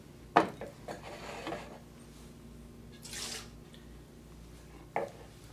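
A wine glass is rinsed at a tap: a sharp clink of glass, trickling and sloshing water, then a fainter rush of pouring and a final clink, quiet and close.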